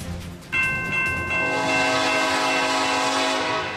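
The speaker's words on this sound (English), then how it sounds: "If you see this train traveling through green country, you probably already know it's carrying cargo." A freight train locomotive passes with a loud sustained horn blast that kicks in and holds over rumbling rail noise, close and prominent with no talk.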